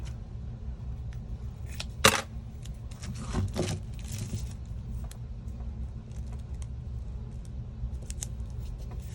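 Scissors trimming a strip of tape edge straight while preparing a resin heart geode mold, a couple of brief close snips around the middle over a low steady background hum, with no talk.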